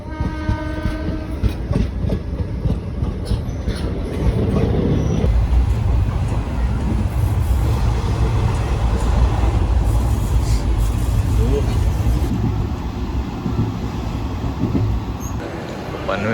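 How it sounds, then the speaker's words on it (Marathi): A Mumbai local train bound for Thane, boarded at Panvel station, rumbles loudly and steadily with rhythmic wheel clatter, a brief horn early on, and muffled voices in the background. "पनवेल स्टेशनला उतरलो आम्ही आणि ठाणे ट्रेन पकडतोय."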